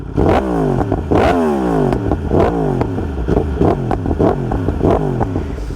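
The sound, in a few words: Yamaha R1M motorcycle engine revving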